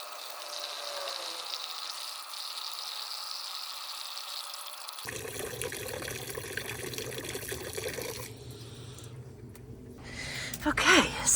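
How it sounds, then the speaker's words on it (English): Water from a tap pours steadily into a container holding leaf mulch for a garden tea, a continuous rushing fill that grows louder and more turbulent toward the end. "So let's get back and fill it up with water."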